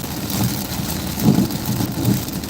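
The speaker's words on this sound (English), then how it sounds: "That is the thunder." Thunder rumbling during a storm in Houston, low and rolling, with two swells building and fading over steady rain noise, no talk.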